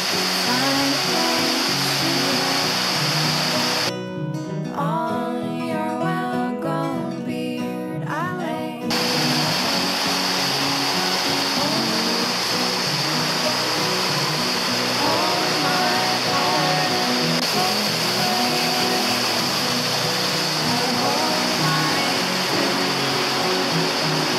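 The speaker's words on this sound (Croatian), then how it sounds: "Sad ćemo tamo na ove vodopatiće." Rushing water from small waterfalls on the Janj River near where it joins the Pliva roars steadily and evenly, broken once near the start by a few seconds of a different, tonal sound.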